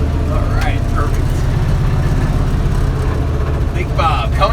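A big truck engine rumbles loud and steady, idling low as it slowly maneuvers into position, with a voice talking over it.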